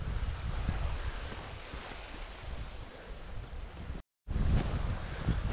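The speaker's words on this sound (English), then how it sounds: "See around here where the wind is too? That's what creates all these waves." Wind-driven waves on Lintrathen Loch in Scotland wash steadily against a pebbly, rocky shore, with continuous wind noise buffeting the microphone and a brief dropout near the end before the surf returns.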